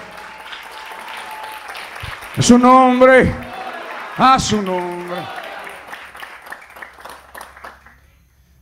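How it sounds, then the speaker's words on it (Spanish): A church congregation claps continuously in the background while a preacher speaks loudly over it in two emphatic bursts, the applause lingering faintly afterward. "Poderle un aplauso al Señor que le está aquí."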